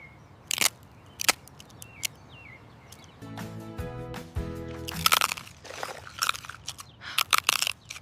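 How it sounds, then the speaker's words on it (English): Potato chips crunching: a run of sharp, crisp bites spaced a second or so apart, close and loud, with a brief tonal sweep in the middle and no talking. "That perfect crunch."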